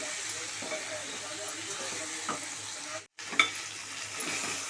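Okra (bendakaya) frying in a pan on high flame and being stirred: a steady sizzle with scraping and stirring noises that break off for a moment midway, then resume.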